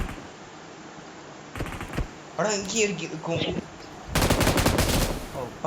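Rapid bursts of automatic gunfire in a multiplayer shooting video game, loud crackling volleys that start, stop and return louder at the end, with players talking in between.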